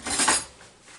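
A butter knife scrapes the membrane off a rack of pork ribs, giving a short, close rasping scrape that fades after half a second.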